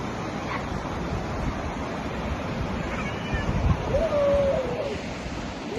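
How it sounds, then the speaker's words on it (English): A loud, rushing Kali Gandaki river on a Mustang trip roars as a steady, close wall of water noise throughout, with a brief faint voice-like tone partly buried beneath it. "it's really loud, the noise of the river"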